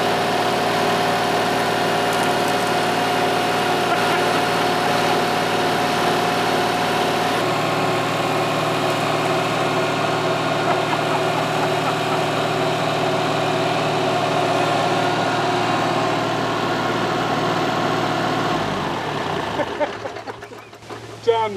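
A steady Kubota tractor engine idles continuously at close range, a low droning rumble with mechanical vibration, easing down and cutting off near the end.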